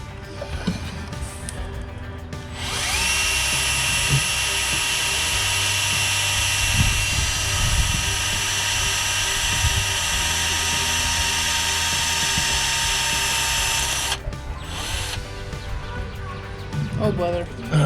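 A drill bores into a broken exhaust manifold bolt on a 4.8L Silverado engine, a steady high whine held for about eleven seconds after a short start, with low rumble beneath and brief clatter before and after.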